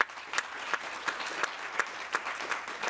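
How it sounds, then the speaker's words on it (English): Audience applause for the President at a gathering on climate resilience and sustainable development: steady, moderately loud clapping with regular sharper peaks, continuing for about three seconds. "Let's give His Excellency the President a round of applause"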